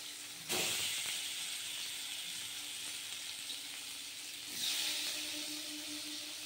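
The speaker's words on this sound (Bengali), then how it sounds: "তেল গরম হয়ে গেছে, এবার আমি এক এক করে মাছগুলো ভেজে নিচ্ছি।" Katla fish pieces fry in hot oil with a steady, loud sizzle and hiss, with a sharp surge when a piece drops in near the start and another swell later as more fish go into the pan.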